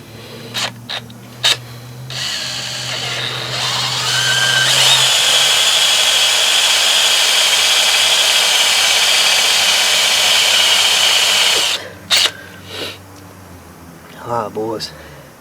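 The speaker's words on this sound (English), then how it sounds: "I drilled 5/8 holes with a pistol drill without knocking my teeth out or breaking my arm" Handheld pistol drill boring 5/8-inch holes into Dana 30 axle sleeves, a loud sustained high whine with grinding that runs for several seconds, framed by clanks and short bursts before and after.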